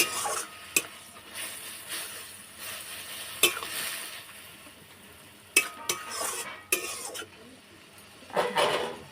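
A spoon scrapes and clinks around a wok in scattered strokes while prawn and pumpkin-leaf paste cooks down, with a soft sizzle of frying underneath; no talking.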